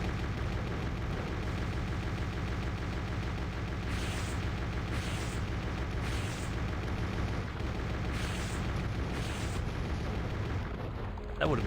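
Rockets launched and exploding against a dam in the GameCube shooter Turok Evolution: a dense, steady roar of game noise broken by about five bright, hissing blasts at regular intervals.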